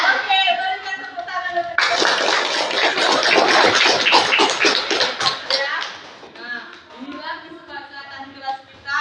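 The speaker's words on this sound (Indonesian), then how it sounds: "berikan tepuk tangan" Classroom applause from a group of students, a burst of dense clapping that rises suddenly, holds for several seconds, then thins out into scattered claps, with voices around it.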